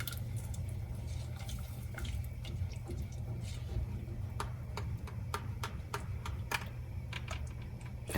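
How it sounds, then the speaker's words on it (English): Homemade cheese sauce thickening in a pan as a utensil keeps stirring it, giving light repeated clicks and taps over a low steady hum, close and continuous, no talking. "make sure that you keep on stirring this, and it's already becoming really nice and thick"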